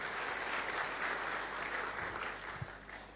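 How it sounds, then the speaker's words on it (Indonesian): An audience gives a sustained round of applause for a company and its management staff at an indoor business event, steady clapping heard at a distance and fairly faint. "beri tepuk tangan untuk PT Natural Nusantara beserta staf"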